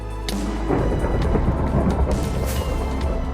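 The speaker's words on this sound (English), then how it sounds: "the game gave him thunder" Thunder in the video game Minecraft, a loud, steady, deep rumbling roll that fills the whole moment without any voices.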